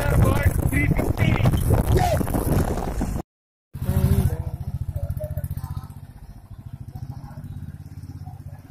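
A Royal Enfield Thunderbird 350 motorcycle rumbles with a steady low engine pulse while being ridden on a Haridwar–Rishikesh road trip, with a voice talking over it and a brief dropout partway through.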